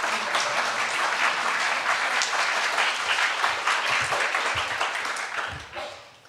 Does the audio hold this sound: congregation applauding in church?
yes